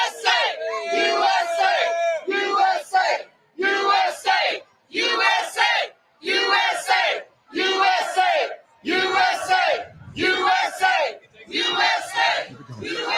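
A huge rally crowd of thousands in Erie, Pennsylvania chants in unison, loud rhythmic bursts of massed voices repeating roughly every second with brief gaps between, yelling and cheering filling the open-air space.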